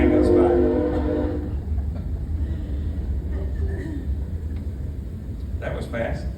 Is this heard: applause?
no